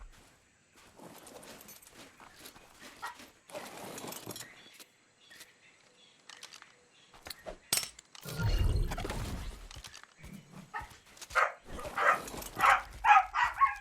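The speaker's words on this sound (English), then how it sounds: "Dogs are about to start barking." Dogs in an ARK Survival Ascended game on the Astraeos map, heard as scattered short barks and yips, some louder bursts near the end, alongside clicks and thuds of play.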